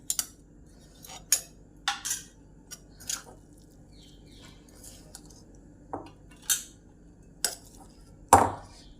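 Fried kharda poha being served onto a plate, a scattering of sharp spoon-on-plate clinks and scrapes spaced irregularly across a quiet background, close and with no talking.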